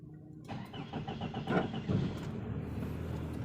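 A 2003 Toyota Ipsum 2.4 automatic cranks with rapid rhythmic starter pulses and catches, then settles into a smooth, steady idle, heard close from inside the car.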